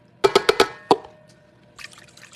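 Yeast being whisked in warm water, heard as a quick burst of five sharp metallic taps and clinks against a bowl, followed by a faint watery swish and a soft rattle, close and without speech.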